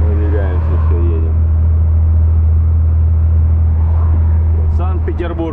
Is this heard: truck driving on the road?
yes